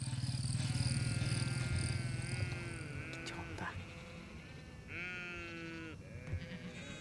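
A Mongolian nomad herd of sheep bleats, several animals calling close by with wavering, drawn-out cries, some overlapping, against a low rumbling background.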